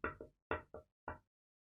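Five sharp wooden knocks on a cottage door, in a quick pair, a pause, another pair, then a single knock, close and clear with silence between.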